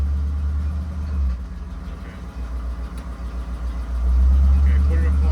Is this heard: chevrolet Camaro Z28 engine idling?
yes